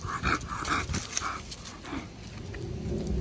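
An adult dog snapping at a puppy outdoors, a short burst of close, sharp growly snaps and yips followed by quieter whimpering, with a steady hiss of background noise throughout.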